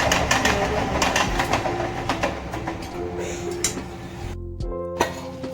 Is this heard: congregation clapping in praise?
no